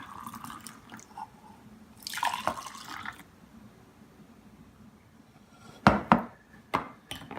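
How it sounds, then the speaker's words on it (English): Milk being poured into a cup for orange hot chocolate: a short splashy gush of liquid, then a few sharp clinks and knocks nearby in a fairly quiet room. "we'll pour a little bit of milk in here."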